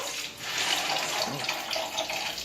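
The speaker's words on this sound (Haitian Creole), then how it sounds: "Je vais mettre une poêle d'eau." Water pours steadily into a pan for cooking rice, a close, continuous splashing rush with slight swells in loudness, alone without talk.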